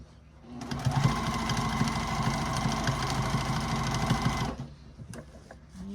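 Juki sewing machine stitching through a thick fabric basket, a steady, loud mechanical whir with rapid needle clatter for about four seconds, starting and stopping abruptly, with quiet handling sounds around it.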